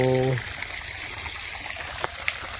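Water flows along an irrigation canal beside farm fields, a steady broadband rush heard nearby; a voice speaks briefly at the very start.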